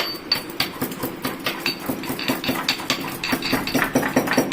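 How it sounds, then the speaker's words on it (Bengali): Roasted cumin seeds are pounded in a steady, rhythmic series of sharp, close knocks, each hit ringing briefly, repeating about three times a second with no talking. "এখানে আমি এক চামচ জিরা ভেজে কুটে নিচ্ছি"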